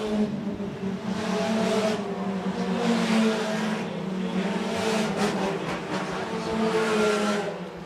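Stock cars racing on the Shelby County Speedway oval on the last lap: loud, continuous engine roar that swells and fades as cars pass close by on the backstretch, with a race announcer's voice faintly under the noise.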